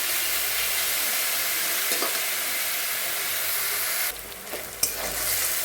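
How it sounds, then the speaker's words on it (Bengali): Eggplant frying in hot oil with green chili and nigella seeds, a steady close sizzle with a brief stirring scrape near the end, no voices. "এটা আমি ভালো করে একটু ভেজে নিই।"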